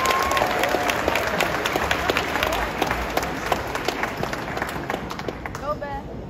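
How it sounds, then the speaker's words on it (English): Applause from an audience at a school awards night honoring Grade 9 academic winners, many hands clapping steadily at moderate distance, with some crowd murmur and a faint whistle-like tone running through. "One more big applause for all those academic men."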